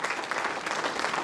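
Audience applause at a Jaipur gathering, a dense, even patter of many hands clapping together, brief and steady.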